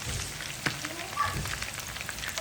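Meat fries in a pan with a soft, even sizzle and a couple of faint clicks, steady and fairly quiet throughout with no talk.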